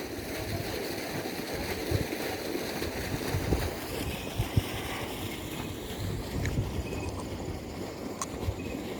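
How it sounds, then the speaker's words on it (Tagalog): At night, water bursts from a broken pipe in a steady, loud, broadband rush and spray, continuous throughout with slight surges and no voices. "grabing pagbulusok ng tubig"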